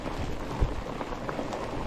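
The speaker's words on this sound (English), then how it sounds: "It's like a little freezing rain, snow, hard snow pellets." Freezing rain and hard snow pellets fall steadily in a wooded outdoor setting, producing a faint, dense patter with one soft thump partway through.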